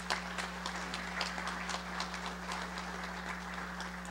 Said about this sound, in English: You owe yourselves a round of applause